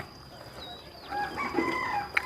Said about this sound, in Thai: ไก่บ้านเจ้าเอิ้นเด้อ